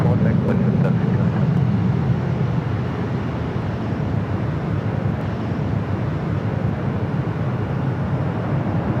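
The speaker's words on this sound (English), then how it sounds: "We've got that American 777 rolling down the 25 right." An American Airlines Boeing 777 rolling down runway 25 right at LAX, a loud, steady broadband jet roar heavy in the low range, with a person talking over it.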